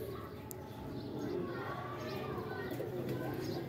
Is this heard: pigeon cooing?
yes